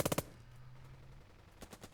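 Machine gun fire in the war video game Burden of Command: a rapid burst of four shots, a brief lull, then another quick burst fading out.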